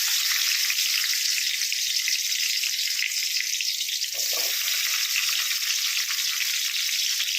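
Small onions frying in hot oil with popped mustard seeds for squid curry, a loud, dense, continuous sizzle with a brief lower splutter partway through, close up and with no voices.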